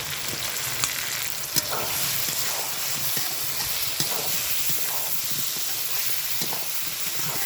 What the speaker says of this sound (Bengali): এইভাবে কষে নিব আলুটা